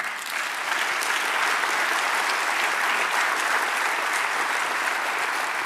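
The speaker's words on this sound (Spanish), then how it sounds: "Dale un aplauso al Señor." A church congregation claps together in dense, even applause, loud and sustained for several seconds without speech over it.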